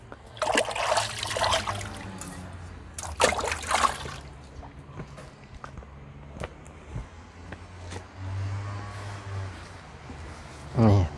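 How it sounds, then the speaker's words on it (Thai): Hands are washed under running water outdoors beside a garden, a soft trickling splash that swells and fades, with a person talking over the first part. "ขออนุญาตล้างมือแป๊บนึง"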